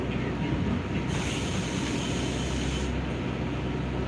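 New York City subway train arriving at 71st Avenue and Metropolitan Avenue station, a loud continuous rumble of wheels and carriages with a steady hiss, close and filling the space throughout.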